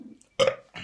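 A single loud, deep belch erupts after a brief quiet, followed by the start of another, part of a rapid-fire challenge of a hundred burps in ten minutes.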